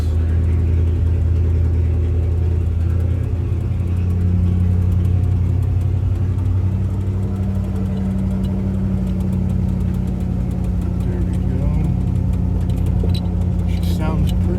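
A 1971 Highboy truck engine with a rebuilt carburetor rumbles steadily at low pitch under strain in reverse, a continuous heavy drone with a brief higher whine near the end.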